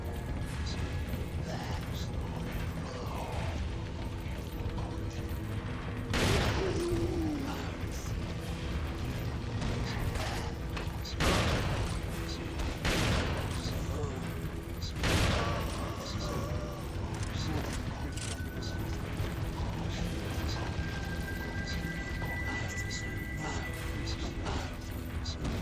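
A shotgun fires in the video game Resident Evil 4, with a few heavy, booming blasts spaced several seconds apart over continuous game noise and clanking action sounds.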